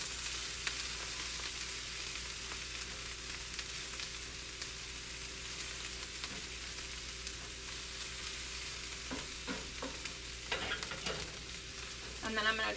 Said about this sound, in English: And you can hear this sizzling. That's what stir fry should sound like,